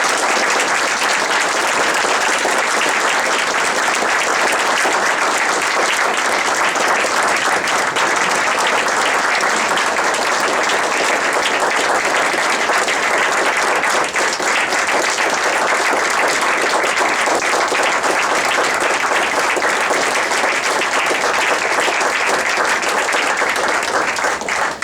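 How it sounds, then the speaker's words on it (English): Sustained, dense applause from a large audience fills the whole stretch at an even, loud level, with no voices breaking through. "Another round of applause."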